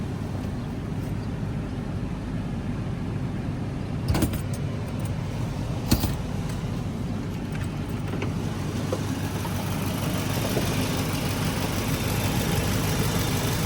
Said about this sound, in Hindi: तो इंजन का टापा उठा के चेक करते हैं कि इंजन की क्या आवाज़ है